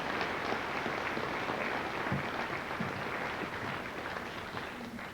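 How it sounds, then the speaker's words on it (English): Applause from a crowd at a high school Veterans Day celebration honoring Major Johnson and his wife, a fairly quiet, distant, steady patter of clapping that tapers off slightly. "Let's give a round of applause to Major Johnson and his wife, Mrs. Johnson"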